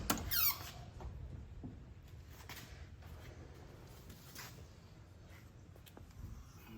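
Door of an original, unrestored 1970s four-speed car opening with a sharp squeak at the start, followed by quieter faint clunks and handling noises nearby.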